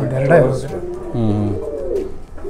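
A pigeon at a loft gives a loud, close, low throaty coo in two short rolling phrases, with a voice faintly present.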